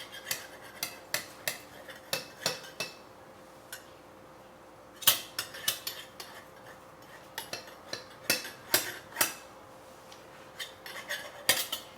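A knife trims the edge of a peach pie crust, tapping and clinking against the pie dish in scattered, sharp, close-up strikes with short quiet gaps.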